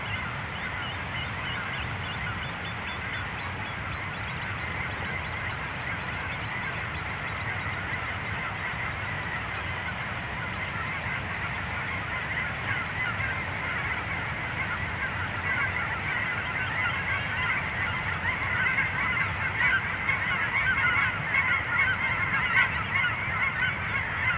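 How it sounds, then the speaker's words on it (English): Many Canada geese honk continuously in flight over a lake, a dense, overlapping chorus, steady and moderately distant, growing slightly louder toward the end as they approach. "in the background, you can hear all of the Canada geese flying towards us."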